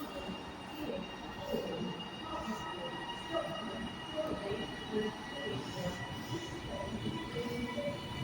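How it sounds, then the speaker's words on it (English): A TransPennine Express train pulls out of Carlisle station on the West Coast Main Line, a low rumble of wheels and carriages with faint squeals rolling on steadily at moderate distance, a muffled voice briefly underneath. "We'll just get this Transpennine Express going off."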